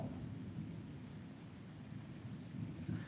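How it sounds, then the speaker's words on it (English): Low thunder rumbles steadily through a storm, a continuous deep roll with faint rain hiss above it, moderately distant and with no voices. "I'm competing with the thunder right now."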